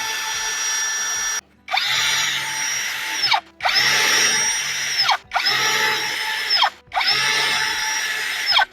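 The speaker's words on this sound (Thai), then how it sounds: "ถอดโอลิงแล้วก็ใช้แปรงตัวนี้นะครับใส่สว่าน" An electric drill fitted with a wire brush whirs in four bursts, each a few seconds long, with brief pauses between and a harsh scrubbing whine while cleaning rust on an old water pump.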